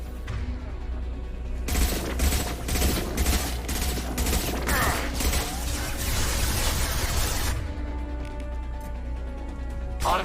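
Automated turret gunfire in Mass Effect 2 pours out as a loud, sustained burst of rapid shots for several seconds over a steady low hum, then cuts off and leaves only a mechanical drone.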